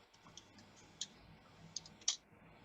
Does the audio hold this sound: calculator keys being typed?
yes